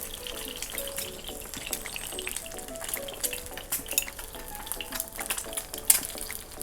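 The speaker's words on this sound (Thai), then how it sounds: "ถ้าจริงๆ เขาทอดไข่ดาวกับน้ำนะคะ เราจะทำกับแซนด์วิชเราก็เลยทำให้มันสุกนิดนึง" An egg fries in a pan with a little water for a sandwich, giving a continuous close crackle and bubbling sizzle with occasional utensil clicks, mixed with faint background music.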